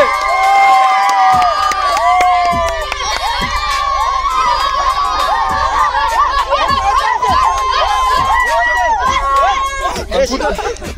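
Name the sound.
children's crowd clapping and cheering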